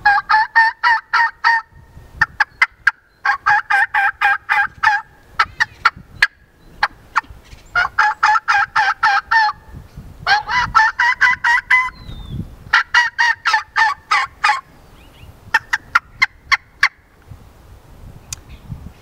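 Hand-operated turkey calls imitating hen yelps, stacked rapidly into bursts of sharp, loud, raspy notes separated by brief pauses, with a few isolated yelps between the fast sequences.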